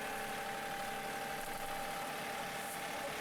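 A tractor engine idles steadily at a low, even drone, close and constant, with a faint knocking texture and no voices.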